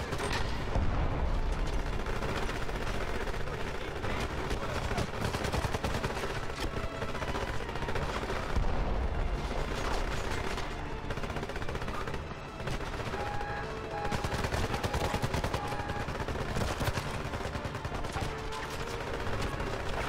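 Heavy weapon fire and explosions from the Xbox 360 shooter 007 Legends: Goldfinger, a rocket launcher among them, forming a loud continuous barrage of booms and blasts with dense overlapping gunfire.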